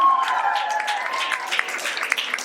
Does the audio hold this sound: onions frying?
no